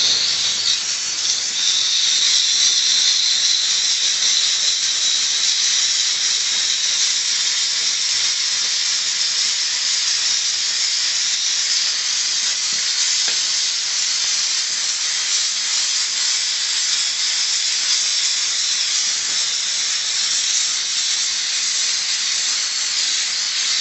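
A Dupray NEAT vapor steamer cleans grout lines in a bathroom, giving a steady, loud, close hiss of steam that runs unbroken and alone, with no talking.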